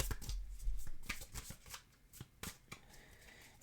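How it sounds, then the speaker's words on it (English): Tarot cards being shuffled by hand in quick, crisp riffling bursts with a few soft taps, close and fairly quiet with no talking. "Just giving them a shuffle here."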